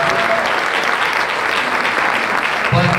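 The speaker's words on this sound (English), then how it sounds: "I want to give them a big round of applause to Oral-B" Steady audience applause at a health event, a dense even wash of clapping from a crowd that carries on for a few seconds without a break.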